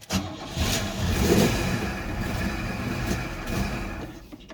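A Pontiac Fiero's engine turns over and runs roughly nearby, revving up and sagging unevenly as if struggling to stay running, staying running only with the throttle pressed.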